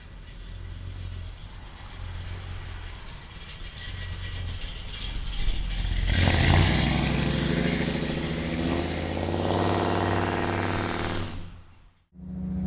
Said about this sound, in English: Listen to this beauty, man. Big block under the hood. It has got an awesome sounding exhaust system on it